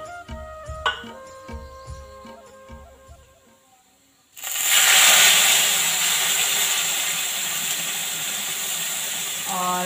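Milk is poured into a golden-brown sweet in a hot pan, setting off a sudden loud, sustained sizzle after a few light clinks of utensils.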